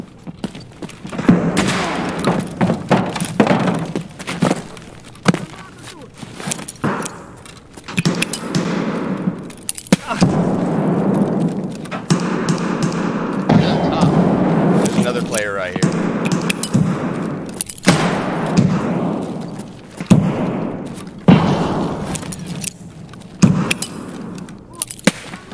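Grenade blasts and gunfire in a multiplayer shooter on a factory map ring out in loud, dense bursts across the whole stretch, mixed with clattering game effects, while players talk excitedly over the action.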